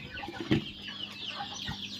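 Village hens and their chicks crowd around feed in a shed on a goat and poultry farm, giving a steady stream of soft clucks and peeps with one louder close cluck, all near and moderately loud.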